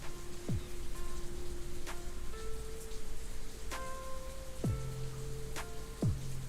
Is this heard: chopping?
no